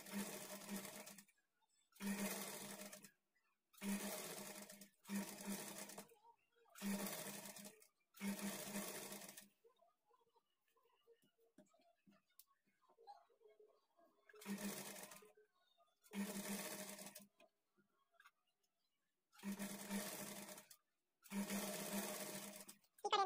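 An electric sewing machine stitches blouse fabric in repeated short bursts of fast rhythmic whirring, each lasting about a second, with a longer quiet pause midway before the bursts resume.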